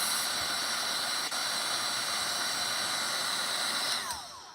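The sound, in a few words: heat drying dyed seam binding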